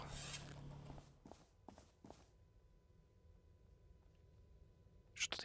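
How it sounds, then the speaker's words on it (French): Footsteps in the survival game Rust, a few soft steps early on followed by a long quiet stretch with low ambient hum and a brief sharp rustle at the end. "J'entends des bruits de pas."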